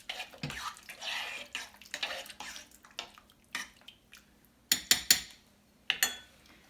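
Chicken, rice and milk stirred together in a slow cooker: irregular wet swishing and sloshing with a few sharp clinks of the spoon against the crock, close and fairly quiet, no talk.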